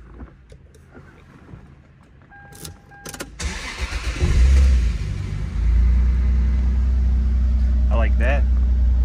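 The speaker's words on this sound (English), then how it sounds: "Cold start." A 2001 Toyota Supra RZ twin turbo engine cold-starts after some quiet handling noises and clicks, cranking and catching into a loud, deep, steady idle; brief voices can be heard near the end.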